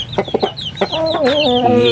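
Chickens cluck in a quick burst of short notes, then a longer drawn-out call, close and clear with no talking.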